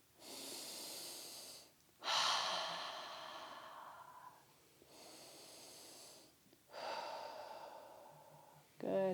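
Slow, deep breaths during a supported prenatal yoga squat: long audible exhales and inhales separated by short pauses, close and clear, with no talking.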